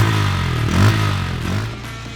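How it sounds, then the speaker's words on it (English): A Bajaj Pulsar N160 motorcycle idles close by with a deep, bassy thrum from its underbelly exhaust, rising into a brief rev and settling back to a steady low throb. "Cranking the engine up, what is immediately likable is the bassy note from the underbelly exhaust"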